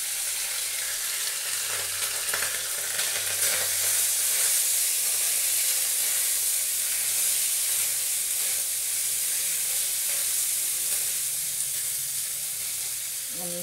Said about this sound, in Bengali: আমি ফ্রাইড রাইস বানাচ্ছি